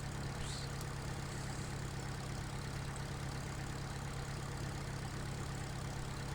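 A tractor engine idles in Farming Simulator 2013, a steady low droning hum that runs unchanged and fairly faint throughout, with no talking.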